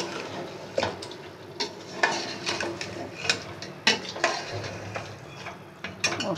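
A spoon stirs badami beef korma in a pot with crushed fried onion just added, giving irregular scraping clinks and soft wet sloshes against the metal. A quiet sizzle runs underneath, and no one talks.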